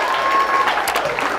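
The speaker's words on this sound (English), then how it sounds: "Some people are really cheering hard" A comedy show audience applauds and cheers, a dense, loud burst of clapping with a few whoops over it, close and continuous.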